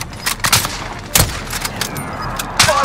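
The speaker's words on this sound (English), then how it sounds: "Friendly precision airstrike inbound." Heavy impacts from a precision airstrike in Call of Duty Warzone land as several sharp, loud booms spread over a few seconds against a constant rumbling battlefield bed.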